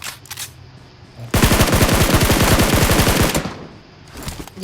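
Video game gunfire: a sustained automatic burst of rapid, evenly spaced shots, loud and close, running about two seconds between quieter stretches of ambient noise.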